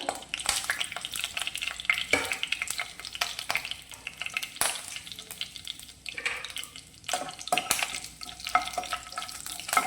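Cumin seeds fry in oil in a pan on a gas stove while matar paneer is being made. A steady, dense sizzle runs throughout, broken by close scraping and stirring strokes.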